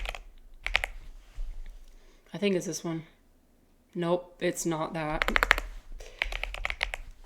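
Typing on a Chinese keyboard, with quick bursts of close key clicks and tapping running between and under a person's talk.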